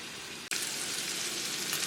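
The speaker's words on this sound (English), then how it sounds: "Okay, you hear it sizzling." A hamburger patty sizzles steadily in a home skillet, a close, constant frying hiss that jumps louder after a brief dip near the start, with no talking.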